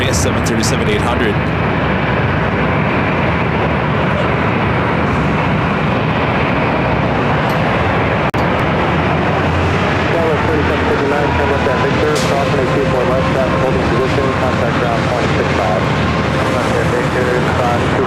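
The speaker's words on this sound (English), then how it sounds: "West Jet Flight 1515 heading to Calgary, 737-800." A WestJet Boeing 737-800 jet at LAX roars steadily and loudly throughout, a broad continuous engine rumble with people talking faintly beneath it.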